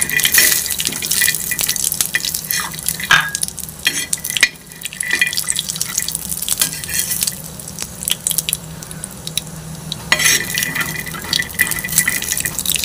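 Peanuts are dry-roasted and stirred in a pan, a busy close rattle of scattered clicks and scraping over a soft hiss, loud throughout with brief lulls.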